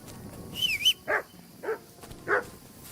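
A dog barks in the medieval open-world game Kingdom Come Deliverance 2, a high yelp followed by three separate mid-pitched barks spaced about half a second apart over a faint ambient background.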